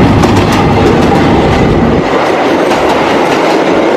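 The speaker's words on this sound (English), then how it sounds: "This is a train locomotive Indonesia" An Indonesian train locomotive roars past close and loud, a dense rushing rumble with rhythmic wheel clatter, no talk.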